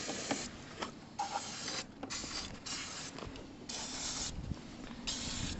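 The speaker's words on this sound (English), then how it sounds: "So you've got to try and creep in penetrating spray" Bursts of penetrating spray are squirted onto rusty exhaust bolts of a Piaggio Typhoon 125 scooter, several short hissing blasts with pauses, faint and close, mixed with small mechanical creaks.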